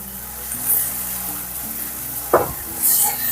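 Softened onions frying in a pan as masala powder goes in, a continuous sizzle with stirring scrapes and one brief clatter, no voices.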